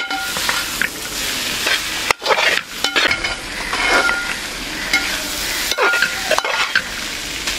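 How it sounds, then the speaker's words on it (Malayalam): Pepper chicken is stirred in a hot pan: loud, continuous sizzling with repeated scraping and clinking strokes of a spoon against the metal, and a couple of sharp knocks. "ഇത് ഇളക്കി കൊടുത്തോണ്ടിരിക്കണം"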